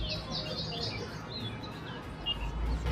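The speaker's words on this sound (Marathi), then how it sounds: "आता आवाज ऐका पक्ष्यांचा." Birds chirp and tweet outdoors, several high calls in quick succession over a soft, steady background of ambient noise.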